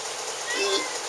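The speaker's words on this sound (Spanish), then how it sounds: "eso es un gato, ¿no?" A cat meows once, a short rising call heard briefly over a steady hiss of room noise in a talk about historical archives, with no other voices at that moment.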